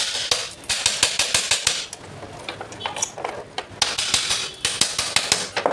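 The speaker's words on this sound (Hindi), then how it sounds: "किसी चीज़ से ठोक दीजिए" Repeated sharp metallic taps from hammering the brake plate on a washing machine spin motor, struck in quick uneven bursts with short pauses, close and fairly loud with no talk.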